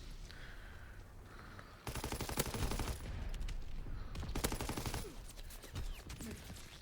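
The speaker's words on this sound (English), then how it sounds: "Still shooting me through the wall." Video game gunfire in Call of Duty, shots coming through a wall: quiet background sounds give way to rapid bursts of automatic fire, sharp and fairly close, with repeated volleys and brief pauses, and no talking.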